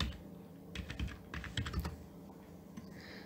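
Keys clatter on a computer keyboard as a website name is entered into a search bar, a short burst of close, irregular clicks with no talking.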